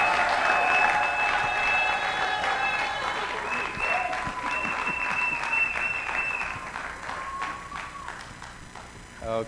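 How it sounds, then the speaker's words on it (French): Wedding guests applaud together during a ceremony, steady rhythmic clapping sustained throughout, with voices audible above it. "Applaudissons,"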